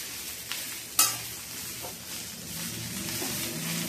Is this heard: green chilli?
yes